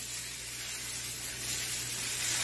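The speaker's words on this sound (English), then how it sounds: "That sizzle when you go in is what you want." Halibut sears in a hot pan of neutral oil, producing a steady, soft sizzling hiss close by with a low background hum and no talk.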